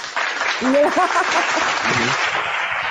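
Audience applause at a debate, a broad dense crackle of clapping that rises quickly and holds steady at a fairly loud level throughout, with a voice speaking over it at the start and crowd noise continuing beneath.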